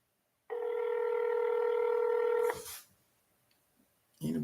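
A single steady telephone tone holds for about two seconds, then cuts off with a click and handling noise, followed by near silence and another brief knock.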